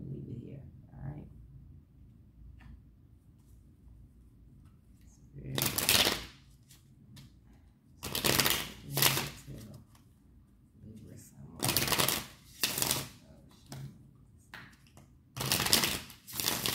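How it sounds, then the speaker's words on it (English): Tarot cards being shuffled and pulled from the deck, with several sharp riffling bursts of papery flutter and snapping card edges, separated by quiet gaps under soft background noise. "let's get you a what they want to tell you card, and I'll pull an advice card for you and leave it here"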